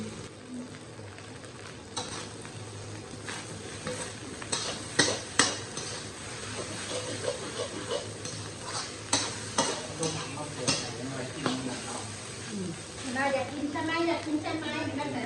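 Fried rice with pork and vegetables is stir-fried in a pan, with a steady sizzle and repeated scraping and clacking strokes that come thicker toward the end, while someone talks over it.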